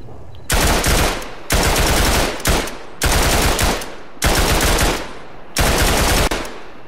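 Machine gun fire in the Tannenberg WWI shooter game: five loud, close sustained bursts of rapid automatic shots, each about a second long, separated by brief pauses.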